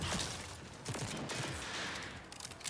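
Rapid gunfire from a player's weapon in Rage 2, a dense fusillade of overlapping shots with a short pause partway through, loud and close, with no voices.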